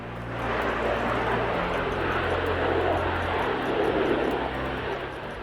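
Steady, loud cabin roar of an Airbus A380 airliner climbing after takeoff from Manchester toward New York, a continuous broadband engine and airflow drone with low hum, no voices.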